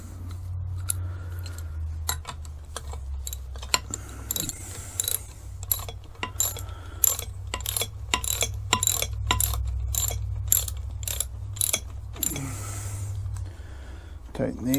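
Bolts on a Yamaha 4hp outboard lower unit are tightened with a ratchet, giving a close run of rapid clicking bursts over a low hum, with brief talk in the middle.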